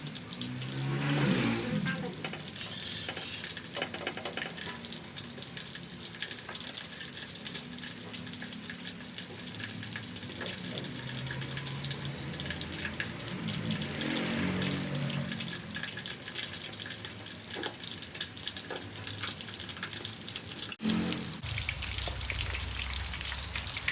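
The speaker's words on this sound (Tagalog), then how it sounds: "So, this is our first fry guys." Chicken pieces on their first fry in hot oil for butter honey chicken, a steady crackling sizzle throughout with occasional clatter and soft voices underneath.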